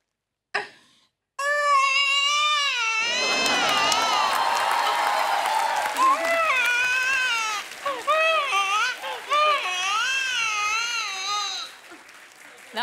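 On a comedy talk show stage, a man imitates a newborn baby crying, producing long, wavering wails with rising and falling pitch that continue for several seconds, then a pause and more bursts of wailing.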